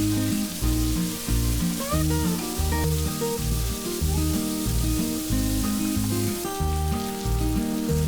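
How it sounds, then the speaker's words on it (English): Three sliced onions frying in a pan until brown for a South Indian crab rice, a continuous hissing sizzle running beneath steady background music. "fry the onion until it is nice and brown"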